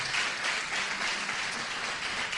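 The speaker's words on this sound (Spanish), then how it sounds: "¿Le puede dar un aplauso al Señor, hermano?" Applause from a church congregation, a steady, dense wash of clapping that holds evenly throughout, fairly distant and moderately loud, with no voices over it.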